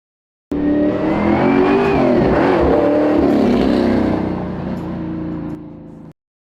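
A 560 hp naturally aspirated car engine with a 6-speed manual revs hard and close. One loud, sustained roar climbs and dips in pitch, then settles to a lower drone before cutting off abruptly.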